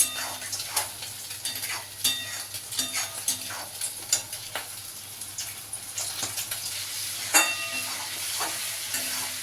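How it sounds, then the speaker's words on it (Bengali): Prawn malai curry masala sautés in a pan, a constant sizzle broken by repeated scraping and clinking strokes of a spoon stirring at an uneven rhythm. "এটাকে ভালো করে কষিয়ে নিতে হবে।"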